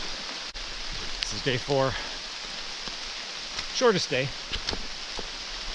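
Steady rain hisses on a wet backcountry portage trail in Algonquin Park, a constant wash of drops under a voice talking nearby.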